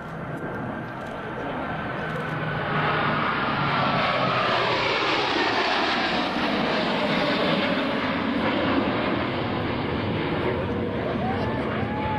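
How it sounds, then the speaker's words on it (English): US Navy Blue Angels jets in Delta formation roar overhead at the 2003 Dayton airshow, a loud sustained jet rush swelling and holding steady as they pass, with a faint voice beneath. "As they pass overhead, you should get a good look at the Delta set used by the 5 wingmen."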